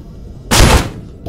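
A single loud burst of gunfire from an armored-vehicle battle in a military shooter game, a sharp blast with a short ringing tail right up close, no talk over it.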